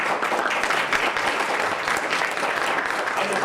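Dense applause from an audience at a Tampa Bay economic forecast forum honoring the economist of the year, steady clapping throughout, fairly close, with no talk over it.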